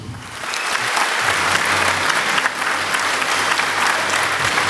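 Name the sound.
audience applause at a company anniversary event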